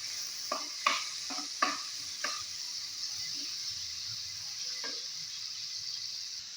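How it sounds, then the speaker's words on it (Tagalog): Onion and tomato sauté in a pan with a soft continuous sizzle, broken by several sharp scraping stir strokes early on and one more later, close but fairly quiet. "Ayan, ginisa ko na yung sibuyas. Tapos, inilagay ko naman yung kamatis."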